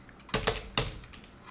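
Three sharp clicks from keys struck on a computer keyboard, close and fairly loud, the first two quick together and the third after a short pause, over a quiet room background.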